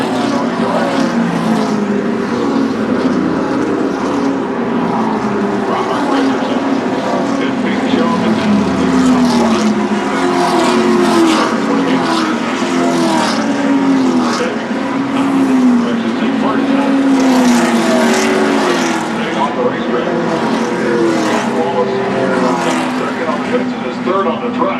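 NASCAR stock cars roar past at Daytona during a pit stop, a continuous loud engine drone with rising and falling passes under steady race commentary.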